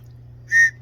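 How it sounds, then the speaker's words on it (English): One short, shrill blast from a help-me survival whistle, loud and close, lasting about a fifth of a second over a low steady hum. "That's the help me whistle"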